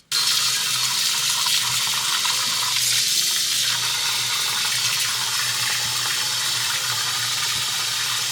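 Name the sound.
hot water filling kitchen sink for washing crystal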